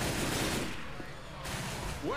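Sniper rifle shots in a zombie shooter game: a few sharp reports early, then a denser mix of gunfire and game noise, loud and close, with a brief rising tone at the end.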